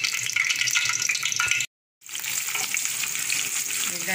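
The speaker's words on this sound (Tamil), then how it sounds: "வெங்காயமும் நல்லா வதங்கட்டும்." Onions frying in about three ladles of hot oil for a garlic kuzhambu, a steady loud sizzle with stirring, cut off by a brief silence before the frying resumes alone.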